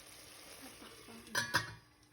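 A metal lid set onto a pork stew pot, two quick clanking hits near the end after a quiet simmering stretch.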